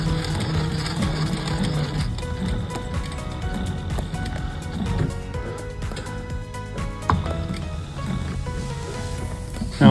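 Sewing machine stitching steadily while trimming around inside holes, a loud continuous whir with faint rhythmic needle clatter, no talk.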